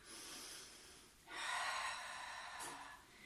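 During a Pilates exercise on a chair, a person breathes audibly, a steady breath giving way to a strong, airy exhale lasting about two seconds, close and fairly quiet.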